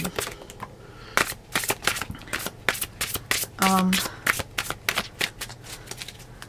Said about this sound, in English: I am shuffling these cards in front of you